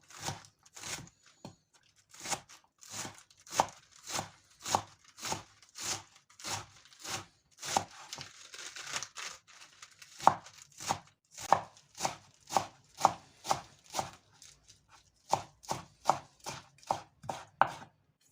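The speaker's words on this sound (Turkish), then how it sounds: "Onları da ince ince doğrayalım." Rapid, steady knife chops finely cutting lettuce on a cutting board, dozens of crisp strikes in an even rhythm, close and clear with no talking.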